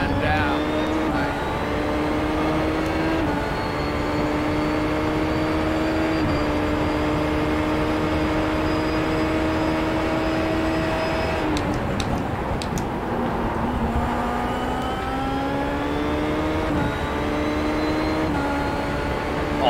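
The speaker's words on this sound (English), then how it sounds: "Oh, I love the sound of these cars." Several Dallara racing car engines in the iRacing video game at Interlagos roar continuously, their revving pitches rising and shifting as they pass, with a brief whoosh midway and no pauses.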